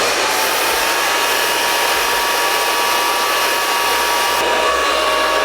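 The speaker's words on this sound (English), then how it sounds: "go through with your blow dryer and smooth everything back" A hair dryer blows continuously, a loud steady rushing whir with a faint whine, close up and unbroken.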